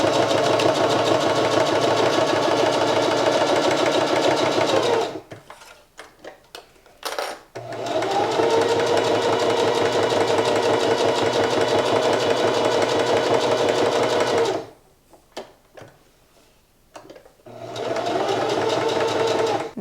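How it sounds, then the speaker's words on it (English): A sewing machine stitches fabric in three close, loud bursts of rapid even whirring, separated by quiet pauses with soft clicks as the presser foot is lifted and the work turned. "Lift up your presser foot, turn your project, put it back down, and continue to sew."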